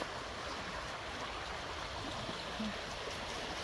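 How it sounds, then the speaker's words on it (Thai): Water flows steadily in a forest stream, a constant soft rush and babble that is faint and unbroken throughout. "บรรยากาศน้ำไหล"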